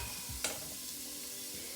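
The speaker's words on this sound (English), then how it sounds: "You can hear that nice sizzle." Close, steady sizzling of onion frying in hot oil, with a couple of short scraping stirs.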